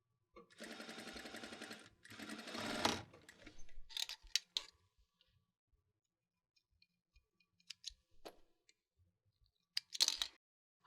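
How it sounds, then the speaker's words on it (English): Sewing machine stitching a second row along a shortened t-shirt sleeve: a close, steady run of rapid stitching for about two seconds, followed by scattered clicks and handling noises with no talking. "I'm going to put my stitch line in between, in the middle of my presser foot there, and stitch our second row"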